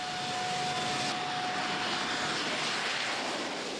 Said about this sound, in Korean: 활주로가 짧아 뒤뚱뒤뚱 착륙을 시도하는 비행기